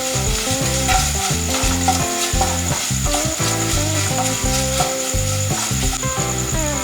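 Dried red chilies and asafoetida sizzle in hot oil with mustard seeds while a star fruit pickle is cooked, a steady crackling fry under loud, rhythmic background music.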